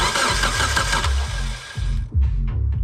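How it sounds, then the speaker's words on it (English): Mitsubishi Lancer Evolution IV engine cranking on its starter without firing while out of fuel, a close, loud, rhythmic chugging of several turns that cuts off, then a brief second burst. "Okay, give me a short crank."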